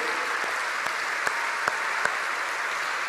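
A church congregation claps during a sermon, a steady wash of applause with a few sharper individual claps standing out, moderately loud and continuous throughout.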